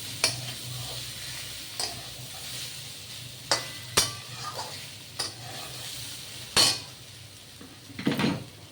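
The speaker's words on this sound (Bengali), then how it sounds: "এবার মাছটা দিয়ে কষাবো।" Mourala fish stir-fried in a pan for a Bengali chorchori with stems, a soft sizzle broken by sharp spatula clinks and scrapes against the metal pan, close, with no voices.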